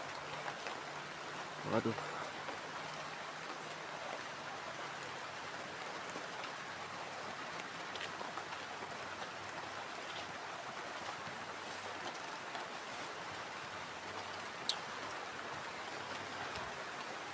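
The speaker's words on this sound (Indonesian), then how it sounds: "Dan ini hujannya semakin lebat banget ya" Heavy rain falling in a forest at a campsite, a dense steady hiss of drops on leaves and surfaces, fairly faint and even, with a brief exclamation from a voice and one sharp knock.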